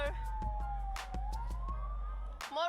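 An ambulance siren wails at a Gaza hospital, a loud single gliding tone that dips and rises, overlaid with sharp bursts of crowd noise and clatter as the vehicle arrives.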